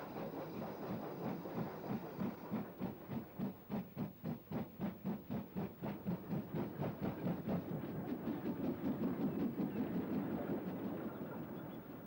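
A Great Western goods train from 1958 rolls past with a steady, rhythmic clickety-clack of wagons over rail joints, loud and close. A continuous rumble and hiss run underneath, and the beat quickens slightly toward the end.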